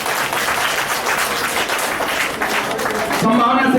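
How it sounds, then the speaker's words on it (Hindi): Loud, sustained applause fills an honoring ceremony at a Hindi literary award event, dense steady clapping throughout before a voice begins speaking near the end. "एक बार जोरदार तालियां तो बजाइए।"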